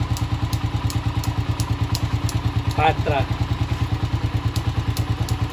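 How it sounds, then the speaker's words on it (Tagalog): A motorcycle engine idles close by in steady rapid thumping pulses, still running even though it will not switch off, while a person speaks briefly over it. "motor na hindi napapatay, ano kaya naging problema?"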